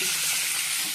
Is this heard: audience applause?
no